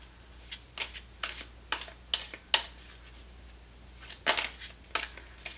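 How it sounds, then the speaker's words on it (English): Tarot and oracle decks, the Arcanum Tarot, Energy Oracle and Angel Answer Oracle, being shuffled by hand up close, a quick series of about a dozen soft riffling card slaps at an uneven rhythm in a quiet room. "Cards that we're using today are the Arcanum Tarot, the Energy Oracle, and the Angel Answer Oracle cards."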